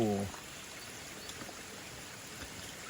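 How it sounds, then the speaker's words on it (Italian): Water gushing from the ground underfoot on a mountain trail up to Rifugio Velo della Madonna in the Pale di San Martino: a soft, steady gurgling flow close by, with a brief voice at the very start. "Acqua che sgorga da sotto,"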